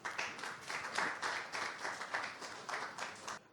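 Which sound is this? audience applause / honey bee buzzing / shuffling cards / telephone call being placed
audience applause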